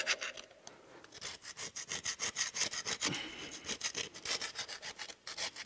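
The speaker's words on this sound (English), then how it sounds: "We're going to scrape the material off" Gasket material is scraped off a Caterpillar C15 cylinder head, a rapid run of close, rhythmic rasping strokes, each a short gritty scrape, repeating for several seconds with no talking.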